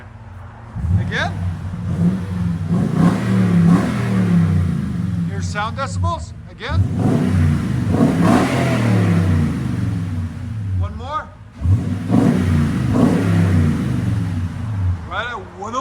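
Toyota Tundra with a 5.7L V8 and aftermarket exhaust revs hard three times in a row, each deep, loud burst holding for a few seconds before dropping off, with people talking over and between the revs.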